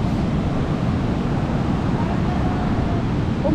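Strong ocean surf rolls onto a soft sandy beach at Baler, Aurora, a continuous close roar of breaking waves with wind rumble across the microphone.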